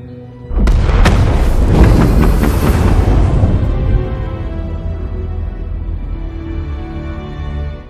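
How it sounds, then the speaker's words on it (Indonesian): A bomb explosion in the film Hitman: Agent 47 erupts as a sudden massive blast with sharp cracks, then a long roaring rumble that slowly fades into a lingering low drone. "sehingga dia pun tewas meledak bersama Antoine."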